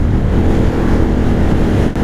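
A CF Moto CL-C cruiser's twin-cylinder engine runs with a loud, rough, throbbing exhaust note, close and steady.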